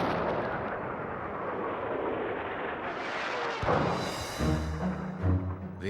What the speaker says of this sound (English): Dawn, June 6th, 1944. The Allied bombardment opens up.